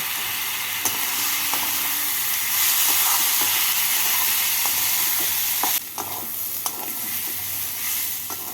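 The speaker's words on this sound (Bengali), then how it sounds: "মুসুরির ডালটা দিয়ে এক মিনিট পেঁয়াজ আর টমেটোর সাথে নাড়াচাড়া করে নেব" Drained red lentils stir-fried with onion and tomato in a pan, a steady loud sizzle with scraping stirs and occasional clinks throughout.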